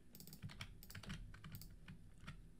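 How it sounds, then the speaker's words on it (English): Rapid clicks of typing on a computer keyboard, a quick irregular run of close keystrokes with brief pauses, entering a username, no speech. "let's type in our username, press submit"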